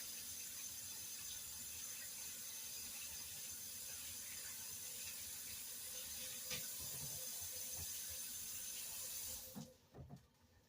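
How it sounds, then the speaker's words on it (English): Cold water runs steadily from a kitchen tap while hands are washed beneath it, a faint continuous hiss that stops abruptly near the end, followed by a few soft clicks and knocks. "Wash your hands with cold water, not hot."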